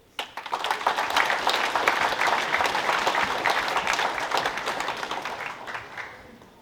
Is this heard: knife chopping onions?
no